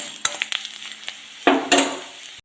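Mustard seeds frying for tempering in a pan while cooking a jackfruit-seed thoran, with scattered light crackles and pops, then a louder sizzling burst and stirring near the end, close and without talk.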